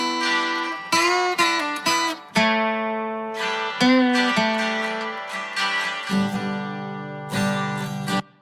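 Acoustic guitar from a mix, playing picked notes and chords that sound thin and telephone-filtered before fuller low and high tones return at a transition near the end.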